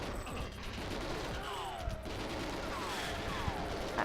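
Short taps of gunfire from the GoldenEye 007 video game, fired a few rounds at a time, quiet and somewhat muffled under a steady background hum.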